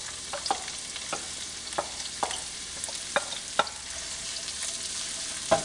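Vegetables cooking in oil with red pepper flakes in a skillet, a soft steady sizzle under sharper clicks and scrapes from stirring at irregular intervals, close and moderately loud, with no talking.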